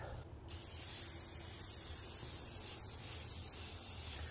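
Aerosol spray can laying down a coat of base paint on a car part, a steady close hiss running almost unbroken after a brief start, with no voices.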